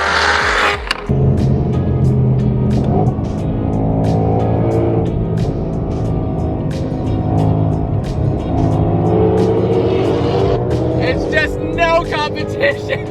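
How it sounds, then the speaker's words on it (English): A white Ferrari F8 Tributo's engine revs loudly and close, with rising and falling throttle blips and a rumbling exhaust running throughout, over crowd noise and brief voices. "Look at this pair of white F8 Tributos. This one sounds crazy."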